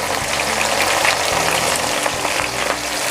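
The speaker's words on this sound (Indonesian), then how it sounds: "Ini minyaknya sudah panas, jadi saya masukkan ada bawang putih yang sudah dicincang kasar, daun bawang, kemudian ada bawang pre." Coarsely chopped garlic, spring onion and leek hit hot oil and sizzle steadily and loudly, with a dense crackling spitting that holds up close for the whole stretch and no voices over it.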